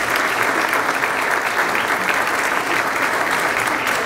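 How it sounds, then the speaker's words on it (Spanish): An audience at an electoral district debate applauds, a dense, steady wash of clapping that fills the whole stretch at close range. "Un aplauso, por favor."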